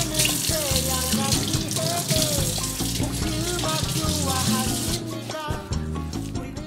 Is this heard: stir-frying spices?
no